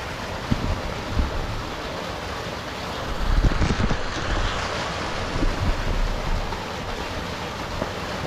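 Water pours into a swimming pool with a steady, loud broadband rush that swells briefly in the middle, with no talking.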